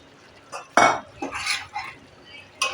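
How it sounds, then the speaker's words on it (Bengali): Fried soya chaap coated in yogurt goes into a pan of creamy gravy, heard as a few close, separate clanks and scrapes of a utensil against the pan with soft wet stirring between them. "এবার আমি যে ভেজে রেখেছি ইয়েগুলো, ভেজে এটাকে মিক্সড করে রেখেছি দইয়ের সাথে, সেই চাপগুলো এর মধ্যে সব দিয়ে দেবো।"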